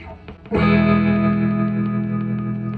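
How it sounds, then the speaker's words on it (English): An electric guitar chord played through a DeArmond Model 800 Trem Trol mechanical tremolo unit that is partly grounded out. It rings loud and sustained after a few quiet muted notes, with a wavering pulsing tone. "the tremolo is being provided by the fact that when you slosh it, it degrounds occasionally"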